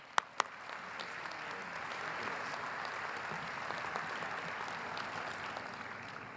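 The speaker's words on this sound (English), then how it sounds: "Please join me in a round of applause." An audience at the 2012 Boston University Henry M. Goldman School of Dental Medicine commencement applauds a speaker in steady, dense clapping that holds at an even level throughout, opened by a couple of sharp, louder claps near the front.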